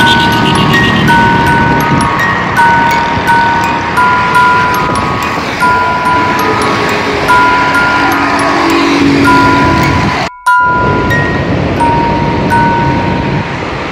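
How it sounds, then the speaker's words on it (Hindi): Traffic on a national highway in Karachi, Pakistan, with a dense, loud wash of engines and road noise and repeated tonal horns sounding over it, near the roadside, briefly cutting out partway through. "ट्रैफिक जाम होता है इस तरह।"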